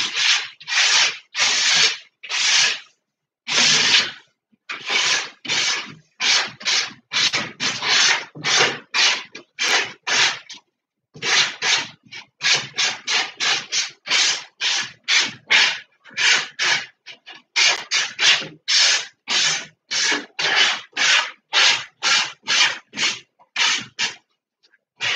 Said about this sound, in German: Ich muss das jetzt hier mal kurz schleifen oder glätten. Darum wird es ein bisschen laut.